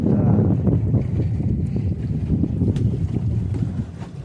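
A four-seat pedal boat on the water of Kasarsai Dam churns with steady low rumbling and sloshing, heavy wind buffeting the microphone up close.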